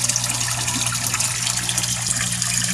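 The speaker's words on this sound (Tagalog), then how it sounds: "Tapos ito yung output ng tubig niya." Water gushes strongly and continuously from the outlet of a two-drum filter on a koi pond, a close, steady splashing rush over a low hum.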